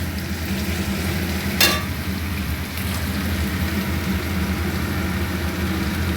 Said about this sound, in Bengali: রসুনও একটু নেড়ে চেড়ে নেব পেঁয়াজের সাথে।